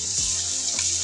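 Chicken with chili sauce frying on a high flame for a Chinese-style soup, giving a steady broadband sizzle that holds close and even throughout, with no talking.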